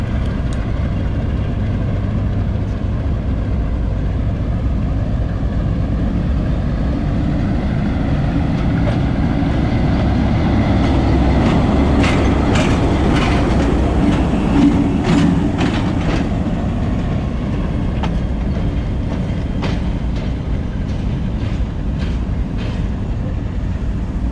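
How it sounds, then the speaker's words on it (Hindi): Locomotive 8053 reversing to couple onto the Thal Express train: a continuous heavy diesel rumble and idling drone, with a cluster of sharp metallic clanks and knocks in the middle as the engine closes in, no voices. "और अब 8053 रिवर्स आएगा तो सीधा ट्रेन के साथ जाके अटैच हो जाएगा।"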